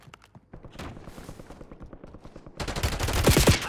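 Rapid Call of Duty gunfire, a fast rhythmic burst of shots that starts lighter and then swells into a louder, denser barrage of automatic fire near the listener.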